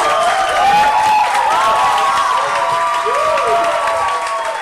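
Studio audience applause and cheering on a Brazilian TV show, a dense, loud, continuous wash of clapping with whistles and voices rising over it.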